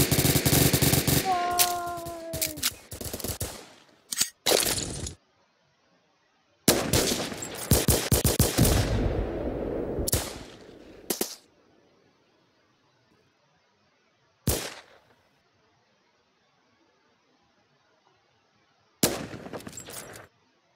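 Gunfire from a weapon in the online shooter Phantom Forces, loud bursts of rapid shots in several separate volleys with silent gaps between them, close and alone without talk.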